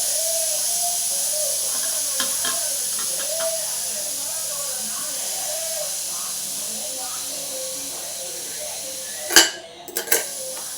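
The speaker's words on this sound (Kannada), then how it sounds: "ಇದೆಲ್ಲ ಹವಾ ಹೋಗುತ್ತಾ ನಾನು ಕುಕ್ಕರ್ ಬಾಯಿ ತೆಗಿಬಾರ್ದು" A pressure cooker used for jeera rice chicken biryani vents steam in a steady loud hiss, with a person speaking and a few metallic clatters of pots near the end.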